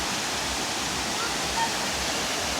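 Cold, all-natural spring water pours steadily over a small two-tiered falls at a resort, a dense, continuous rushing wash that stays close and even throughout without pause.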